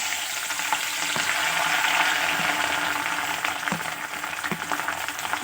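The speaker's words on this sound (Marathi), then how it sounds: "इथे मिरची तळून घेणार आहे" Steady oil frying of green chillies with a dense crackling sizzle throughout, plus a few faint clicks of a utensil against the pan.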